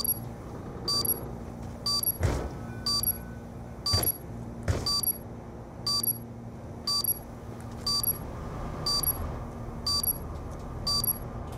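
An armed bomb beeps steadily in a competitive video game, a regular high electronic tone repeating about once a second above rumbling gameplay noise and a few sharp impacts.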